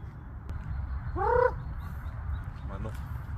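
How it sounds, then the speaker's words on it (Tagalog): A single short squawk from a chicken by a lake cuts through steady low background noise, followed later by a fainter call. "Manok."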